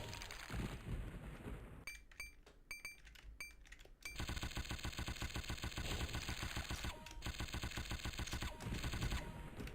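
Gunfire in a DOS video game: rapid, evenly spaced digital shots rattle like a machine gun. A short choppy stutter breaks them up, then a long continuous burst follows, harsh and close.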